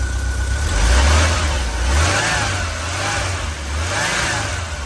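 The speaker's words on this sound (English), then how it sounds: "And then if I rev the engine up" A 1984 Volkswagen Westfalia engine revs up close by, rising to a loud peak, settling, then swelling again in a second smaller rev over a steady running drone.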